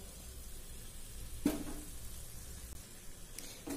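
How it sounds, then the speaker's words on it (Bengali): Cashew paste being sautéed with vegetables in a pan, giving a soft, steady sizzle close by with one brief scrape of a spatula partway through and no voices. "এবার আমি এতে অ্যাড করব এই কাজু বাদাম বাটা"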